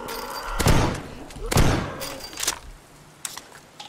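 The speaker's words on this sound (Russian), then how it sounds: "Фух, хватило двух выстрелов." Two loud gunshots fired in a video game, sharp booming blasts about a second apart, followed by fainter thuds and game noise.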